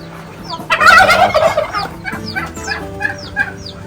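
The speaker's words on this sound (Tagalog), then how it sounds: "Ang daming manok." Poultry on a backyard free-range farm makes loud, close, repeated gobbling calls mixed with clucks, a rapid warbling burst followed by several shorter rising calls.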